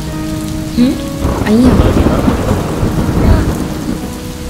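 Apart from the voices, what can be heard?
rain falling with thunder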